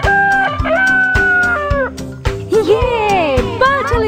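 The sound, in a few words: rooster crowing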